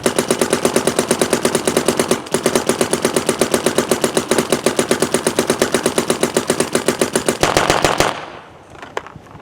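A Planet Eclipse Gtek M170r paintball gun fires long rapid strings of sharp, evenly spaced shots at very high cadence, loud and close, with a brief pause early on before the firing stops near the end.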